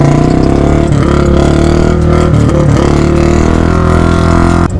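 A Royal Enfield Bullet motorcycle engine revs loudly and close up with a thick, steady thumping drone, its pitch dipping and rising briefly as the throttle is worked.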